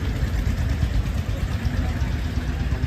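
A steady engine rumble runs throughout, low and continuous, like a Swaraj 855 tractor idling close by with no change in pace.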